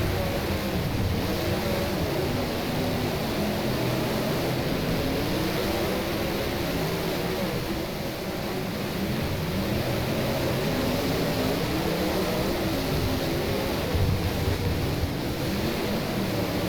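Late Model race car engines in the rFactor racing game at LaSalle drone continuously for the whole stretch, a thick, steady roar of several cars together with only slight swells and dips and no voices.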